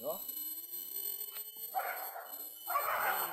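Dog barking during a Sunday wild boar hunt, several short loud bark bursts near the end over a wavering whistle-like tone, with people talking nearby.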